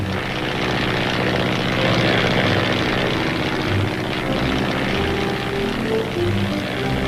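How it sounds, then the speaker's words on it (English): An Army L-4 or L-19 liaison plane's propeller engine drones steadily and loud as the aircraft begins rolling across an airstrip, a continuous close hum with no talk. "the plane starts moving across the airstrip"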